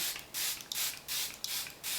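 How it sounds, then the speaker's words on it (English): Charlotte Tilbury Airbrush Flawless Setting Spray is misted onto a made-up face in three quick hissing pumps, close and fairly soft, with short pauses between and no talking. "And then I'm gonna go over with my other classic, the Charlotte Tilbury Airbrush Flawless Setting Spray."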